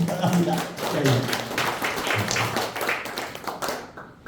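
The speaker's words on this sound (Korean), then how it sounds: "박수 한번 보내주시기 바랍니다" An audience in a large lecture hall gives a round of applause, a dense patter of close clapping that fades out near the end.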